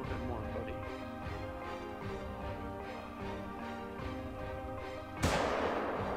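A hunting rifle fires once in theHunter: Call of the Wild video game, a sharp sudden crack near the end over steady game music.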